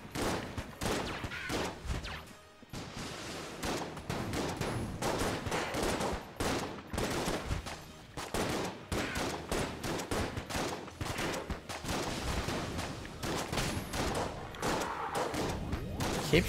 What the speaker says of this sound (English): Keep shooting at him, please.